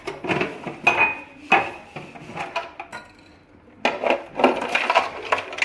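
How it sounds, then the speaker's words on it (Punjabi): Hard ice chunks clatter into a container of lemon-mint sharbat in several bursts, clinking and knocking with pauses between, close and fairly loud. "ਹੁਣ ਆਪਾਂ ਇਹਦੇ ਵਿੱਚ ਪਾਣੇ ਆ ਬਰਫ਼"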